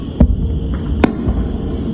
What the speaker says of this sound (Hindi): ये धमाके की आवाज भी साफ तौर पे सुनाई दे रहा है